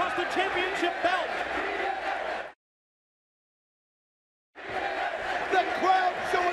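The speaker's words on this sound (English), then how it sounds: "The crowd showing their appreciation" Wrestling arena crowd roars and cheers in a dense, loud wash, cutting off abruptly into two seconds of silence before the noise resumes just as full.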